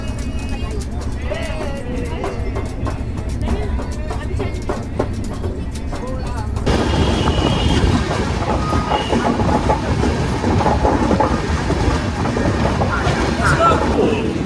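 A sleeper-class coach of the Delhi to Ahmedabad Yoga Express rumbles along steadily with clattering wheels and loud, continuous rail noise, growing heavier and rougher partway through.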